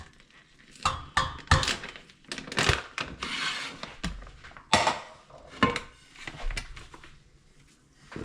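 Cooked egg noodles being drained and placed onto a serving platter in a home kitchen: irregular clattering knocks and clinks of utensils and dishware, with sporadic loud thunks separated by brief quieter pauses.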